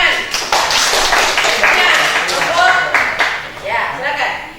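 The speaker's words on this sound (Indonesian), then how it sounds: "tepuk tangan" Audience clapping in a classroom after a student presentation, a steady burst of hand claps with scattered voices mixed in.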